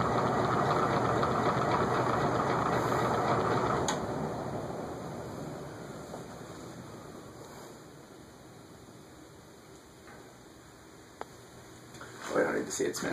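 An antique Emerson "Longnose" ceiling fan rattles loudly and steadily, then the noise eases and thins after a few seconds, with scattered clicks and a brief knock near the end.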